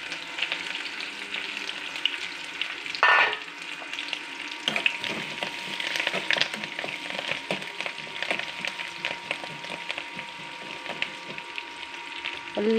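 Onion and curry leaves frying in a pan for erissery, a continuous bright sizzle with occasional sharper crackles and pops, close and steady throughout.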